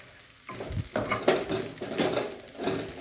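A spoon stirs peanut powder through partly cooked sabudana in a sizzling pan, with repeated scraping strokes against the metal over a steady frying hiss.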